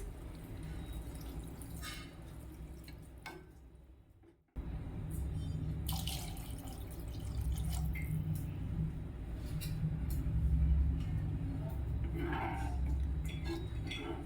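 One to two glasses of water pour into spiced masala in a pan while masala Maggi noodles are being cooked, a running, splashing liquid sound that pauses briefly and then continues at close range.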